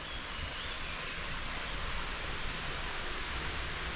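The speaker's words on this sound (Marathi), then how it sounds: "तिकडे आवाज येतोय तुम्हाला पाण्याचा बघा" A stream near the Siddhaganesh temple on Siddhagad at Shirvande flows in a steady, even rush of water, faint and distant, without voices or pauses.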